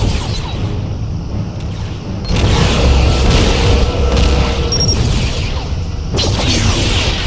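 A Romulan ship explodes in the space combat game Star Trek Legacy: loud, rumbling booms and whooshing blasts that swell abruptly after a quieter start and keep roaring, with no voices.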